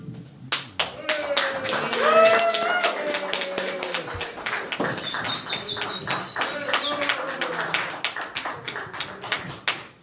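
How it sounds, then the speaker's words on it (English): An audience claps for a magician as he comes on stage. The clapping is dense and steady for about ten seconds, with voices and cheers mixed in. "Thank you for that wonderful round of applause"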